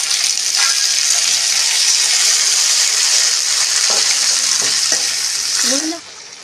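Onion and tomato sautéing in a pan for sundakai chutney, a loud, steady sizzle with occasional stirring scrapes, ending in a brief clatter as the sizzle suddenly drops away.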